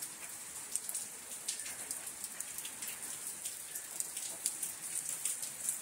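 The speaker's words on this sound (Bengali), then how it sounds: "এই বৃষ্টি মনে আজকে কমবে না, সারাদিনই এইভাবে জোর জোর জোর দেওয়া হবে।" A morning downpour in Bengal keeps up a constant hiss, with dense drops drumming on surfaces and occasional sharper splats, fairly quiet and even throughout, with no one speaking.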